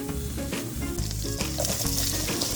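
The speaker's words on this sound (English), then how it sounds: "Add butter to the pan. Cook the chicken." Chicken cooking in melted butter in a pan sizzles and crackles steadily at close range, a continuous loud frying hiss with faint stirring noises and no talking.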